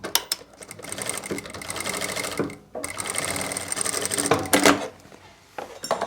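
A sewing machine stitches a kurti sleeve with a steady, fast rattling whir in several runs, stopping briefly between them, close and clear.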